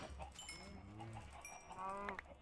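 Minecraft sheep bleating in the game, several short baa calls over quiet background game sounds, fairly faint.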